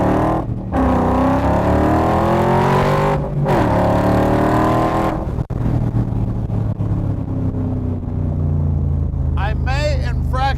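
A 1965 Shell Cobra V8 car accelerating hard, loud close engine roar climbing through revs with brief drops between gear changes, then settling into a steady cruise; a voice is heard over it.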